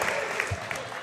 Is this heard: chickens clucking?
no